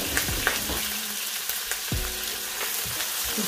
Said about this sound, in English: Then after the onions fry, only 1 or 2 minutes